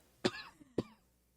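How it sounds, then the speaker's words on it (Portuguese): A person clears their throat twice, two short rough bursts about half a second apart, close and fairly quiet, with a faint small sound between them and no speech. "pigarro novamente, tá difícil."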